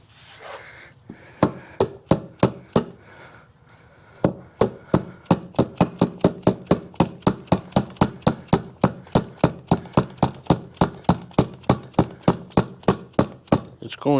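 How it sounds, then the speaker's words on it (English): Dead blow hammer striking a transmission part on a 1973 Yamaha ATMX 125, a few scattered thuds and then a long run of rapid, evenly spaced heavy knocks, close and loud, with no talking. "Give this thing a couple of whacks with the old dead blow and see what it does here."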